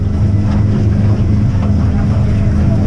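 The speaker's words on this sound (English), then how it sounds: "it's really choppy today. It's 18 miles per hour wind." Strong wind of about 18 mph roars across choppy water from a fishing boat, a loud, dense, continuous rumble with wind buffeting the microphone.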